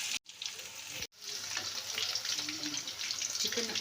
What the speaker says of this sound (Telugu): ఇప్పుడు మనము డీప్ ఫ్రై చేసుకుందాము.